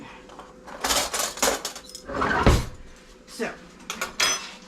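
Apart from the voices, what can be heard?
spoons and dishes being handled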